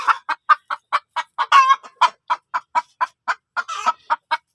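Hens cackling after laying eggs: a close, loud, steady run of sharp repeated clucks at an even rhythm, with a couple of longer drawn-out squawks, and no talking.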